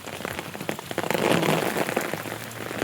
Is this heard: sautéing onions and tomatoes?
no